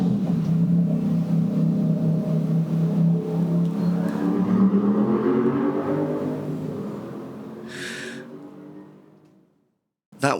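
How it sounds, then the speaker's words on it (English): A motorbike passes outside, its engine a low rumble that swells, then fades over several seconds and drops into near silence. "That was a motorbike, and I'm very annoyed by that."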